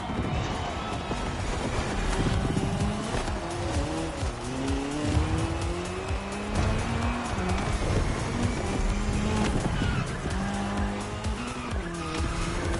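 A Puma rally car races over asphalt in The Crew Motorfest, its engine droning and shifting pitch continuously with repeated tire squeals and skids, loud and close throughout, with faint talk underneath.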